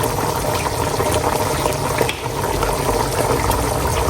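Ginataang tuna (tulingan) with kangkong simmering in a pan of plenty of coconut milk, giving a steady, close bubbling hiss that holds level throughout with no one speaking.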